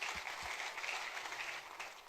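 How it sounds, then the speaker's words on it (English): Audience applause at a print industry summit, a steady dense wash of clapping heard at moderate distance that holds for about two seconds without voices. "I think she deserves a huge round of applause"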